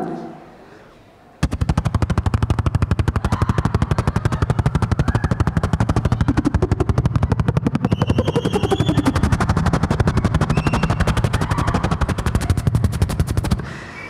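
A beatboxer's voice imitates a naval helicopter landing with a fast, steady rhythmic chopping beat, loud and sustained for about twelve seconds after a brief quiet start.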